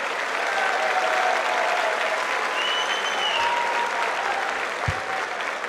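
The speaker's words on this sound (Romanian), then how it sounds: "Aplauze lui Mario Gheller, are doar 18 ani și o inimă de leu." Crowd applause at a Heroes combat sports event for an 18-year-old fighter, a dense, steady wash of clapping from a large audience in an arena, holding at the same level throughout.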